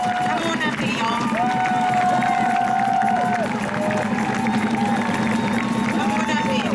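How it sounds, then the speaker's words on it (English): Crowd at an outdoor rally cheering and clapping in a steady, dense wash, with voices shouting and talking throughout. "As they continue to make their way to the stage, and we clap and we honor them"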